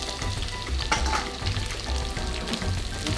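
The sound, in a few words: stirring ingredients sizzling in a frying pan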